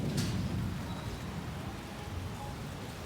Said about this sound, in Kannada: ಮತ್ತೆ ಮಳೆ ಜೋರಾಯಿತು.